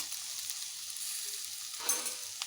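Ginger garlic paste frying in hot oil, a soft, steady sizzle heard close but faint, briefly rising near the end as the paste is stirred.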